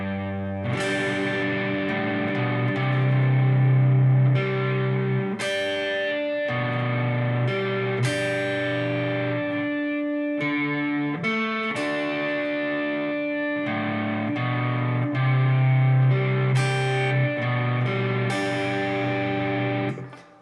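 An overdriven electric guitar slowly plays chorus parts one through three of a song, a steady run of ringing distorted chords held a second or two each, close and loud throughout with no talking.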